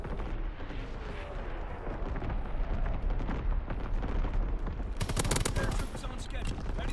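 Enemy artillery fire in Call of Duty, a dense, continuous rumble of blasts and rapid gunfire that grows into a harsh, loud barrage toward the end, with a voice speaking over it.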